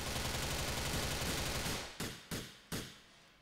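Gunfire in GTA 4: a dense, continuous burst of rapid shots that cuts off, followed by three separate loud single shots, each with a short decaying tail.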